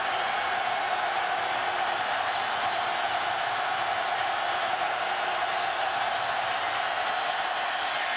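A packed college football stadium crowd at an Iowa State versus Oklahoma State game roars in a dense, steady wash of noise that holds for the whole stretch with no break.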